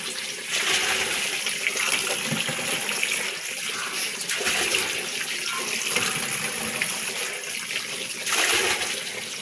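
Tap water gushes in a steady, loud, broadband rush that runs almost continuously and fills the space, with small surges and dips in the flow.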